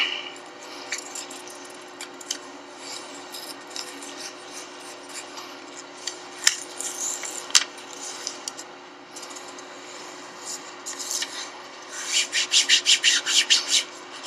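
Kinesiology tape being rubbed onto a person's back to activate its glue, a soft steady friction rub close by, growing into brisker rhythmic strokes toward the end.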